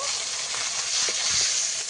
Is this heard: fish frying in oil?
yes